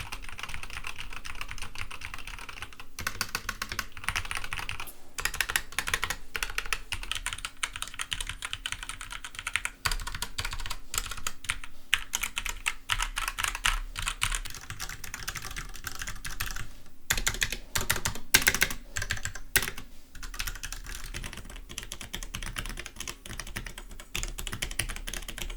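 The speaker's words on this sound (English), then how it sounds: "give you a sound test so you can hear how not annoying these keys are" Continuous fast typing on a SteelSeries Apex Pro keyboard with OmniPoint switches, dense rapid key clicks and clacks close up, with no talk.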